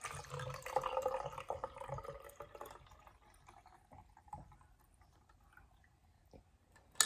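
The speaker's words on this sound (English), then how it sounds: "So first, I am gonna fill the jars up with water." Water is poured into jars, a splashy, bubbling fill that is loudest at the start and trails off into quieter drips and small trickles, with a sharp click at the very end.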